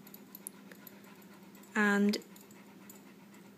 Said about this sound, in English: the symptoms that we noticed was this, panting.